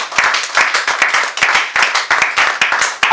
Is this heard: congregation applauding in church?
yes